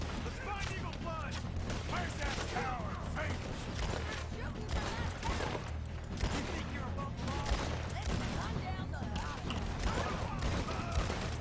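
Gunshots crack repeatedly during an army camp raid in Red Dead Redemption 2, scattered sharp reports mixed with game clatter while people talk over them throughout.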